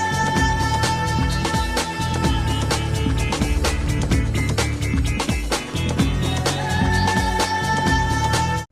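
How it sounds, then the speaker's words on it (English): Electronic house track from a late-1990s FIFA football video game soundtrack, a loud, dense mix with a steady pounding beat, sustained synth tones and busy percussion playing continuously. "they moved from its heavy reliance on electronic and house genres that sounded like this"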